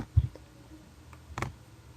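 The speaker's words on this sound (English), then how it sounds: "I want us to click on this here." A computer mouse on a word-processing task gives two light, sharp clicks, one near the start and one just before the end, with faint room noise between and no voices.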